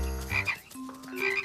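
Cartoon frogs croak in a quick series of close, moderately loud calls with no talk over them.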